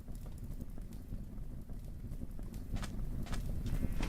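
Horse hooves clip-clop steadily in the modded Minecraft pack GregTech New Horizons, a continuous rhythmic trotting over a noisy, wind-like background.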